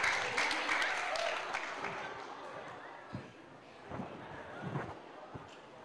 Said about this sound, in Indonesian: Tepuk tangan dulu yang meriah untuk adik-adik SMA Negeri 1 Kota Ternate.